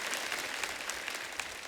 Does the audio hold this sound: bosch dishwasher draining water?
no